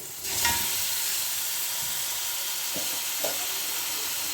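Mutton frying with garlic in a pan for a stew, a steady close sizzle with a few soft stirring knocks and no voices.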